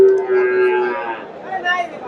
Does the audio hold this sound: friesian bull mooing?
yes